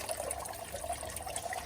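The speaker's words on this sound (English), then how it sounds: "And we'll give it a stir." Water being stirred after a small dose of pH-adjusting chemical is added, a soft continuous sloshing and swirling of liquid close by, steady and brief, with no voices.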